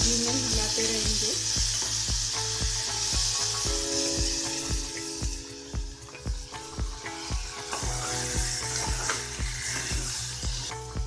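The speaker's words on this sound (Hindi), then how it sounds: "ये धुले हुए चावल है, इसको भी हम चम्मच से घी में हिलाते रहेंगे।" Washed rice stirred in hot ghee with a spoon, a dense sizzle under a brisk, continuous run of scraping and clacking strokes against the pot, close and loud throughout.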